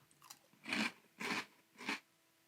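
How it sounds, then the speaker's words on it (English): Three distinct, close crunches of dry Oreo O's chocolate cereal being bitten and chewed, evenly spaced, loud and crisp with no talking. "these O's really have a better, heartier crunch to them"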